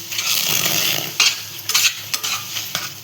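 Mashed banana mixture stirred in a hot pan for a sweet banana burfi, a steady close scraping stir over a soft sizzle, with a few louder spatula scrapes toward the end.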